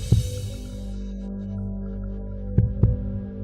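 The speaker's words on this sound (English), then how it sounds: "Bring in an audio recording of a heartbeat." An audio recording of a heartbeat plays as a sound effect: two double thumps, one near the start and another pair near the end, low and close, over a steady hum.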